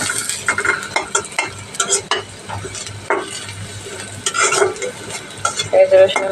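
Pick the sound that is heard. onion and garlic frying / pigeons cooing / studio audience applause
onion and garlic frying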